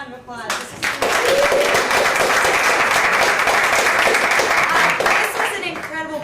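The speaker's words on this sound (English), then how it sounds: "can we give one more round of applause?" Audience applause after a panel discussion at a rights week event swells quickly into a dense, loud round of clapping, holds steady, then tapers off, with voices briefly audible at the edges.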